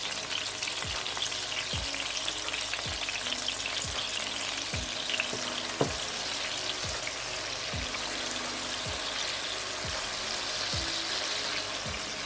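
Garlic sizzles and fries in a pot for spaghetti, a continuous crackling hiss punctuated by regular scraping stirs and a single sharp clink, with no talking.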